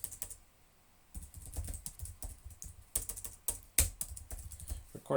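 Typing on a computer keyboard while writing code for a Raspberry Pi, with close, uneven bursts of key clicks separated by short pauses and no talking.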